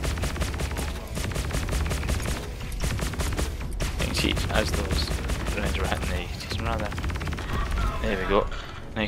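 Explosions and rapid gunfire during a Star Citizen Gladius dogfight, dense bursts of repeated shots and blasts filling the whole stretch, loud and continuous, with a voice speaking over part of it.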